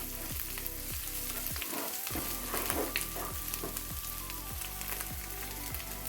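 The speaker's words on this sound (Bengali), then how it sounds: "আমি একটু কষিয়ে নিচ্ছি।" Spices cooking down in a pan for Bengali steamed egg korma with coconut milk, a continuous sizzle broken by regular scraping strokes of a spatula stirring the mixture, close and alone.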